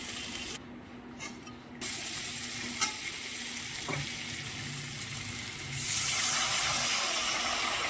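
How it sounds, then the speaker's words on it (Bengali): Potato pieces stirred through a spice masala in a pan, a steady low frying hiss with occasional scrapes and a louder sizzling swell near the end, close by and without talk. "কষে নিয়ে আলুগুলো আমি দিয়ে দিলাম মশলার মধ্যে"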